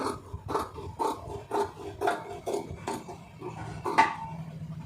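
Scissors cut through blouse lining fabric in a steady run of about nine crisp snips, roughly two per second, close up and with no one speaking.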